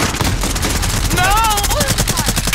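Rapid automatic gunfire rattles in tight bursts during a Call of Duty match, loud and close, with brief electronic whistling tones woven through the shots.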